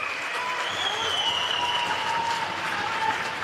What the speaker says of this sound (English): The Melbourne fans cheer as Carson gets another save